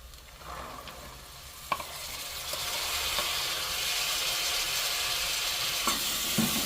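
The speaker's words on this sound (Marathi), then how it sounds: "गॅसची फ्लेम आहे ती थोडीशी आपण हाय करूया आणि हे जे वालाचे दाणे आहेत ते आपण ह्याच्यामध्ये टाकून घेऊया" Val beans (field beans) are tipped into a hot pan with onions over a high gas flame, and a steady frying hiss swells and holds, with a few clicks of stirring.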